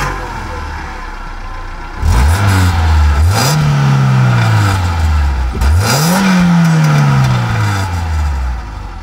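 A Suzuki Jimny III 1.3L 16-valve engine with variable valve timing revs hard twice toward 7000 rpm, pitch sweeping up sharply and falling back each time, loud and close with a steady running hum between.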